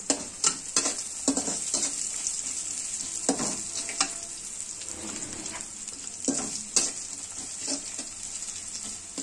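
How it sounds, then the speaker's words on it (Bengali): Onions frying with salt in a pan for a chicken and bottle gourd curry: a steady, close sizzle with repeated scraping stir strokes every second or so, and no talking. "পেঁয়াজ ভাজার সময় একটু লবণ দিয়ে দিলে"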